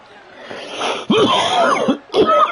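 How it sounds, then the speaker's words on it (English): A person coughs harshly several times in close, loud bursts separated by short gaps, with a rough, throaty, wheezy edge. "Get the cough out."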